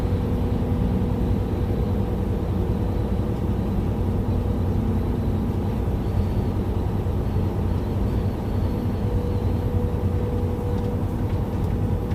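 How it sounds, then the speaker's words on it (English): A steady, heavy rumble of traffic on Utah's Highway 84 as an eight-axle tractor truck passes, heard from inside a moving vehicle as a constant low road roar without talk. "Eight-axle tractor."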